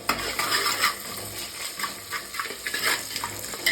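Chopped ginger being stirred and fried in a pan, with a spatula scraping and clacking in irregular strokes over a continuous bright sizzle.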